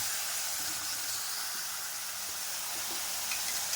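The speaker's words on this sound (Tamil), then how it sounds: "இப்போ நல்லா கொதிக்குது." Tamarind water simmering in a Tamil okra curry (vendakkai puli kuzhambu), giving a steady, moderately loud hiss and sizzle that runs unbroken through the whole stretch, with no voices over it.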